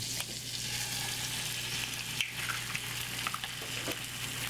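Eggs fry in a big pan with a steady, close sizzle and crackle. Faint hiss and pops sit over a low constant hum, and no one speaks.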